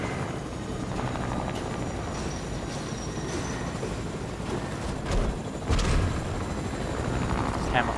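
A helicopter's rotor drone rumbles steadily with a dense mechanical roar, a few brief rattling bursts rising over it midway, in the video game Fortnite.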